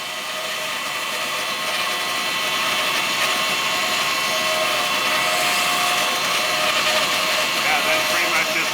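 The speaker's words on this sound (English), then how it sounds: "cut the final shape out on the large" A large bandsaw cuts laminated oak timber while a replacement part for a wooden boat is rebuilt, giving a loud continuous high-pitched whirring drone that builds slightly and holds steady throughout.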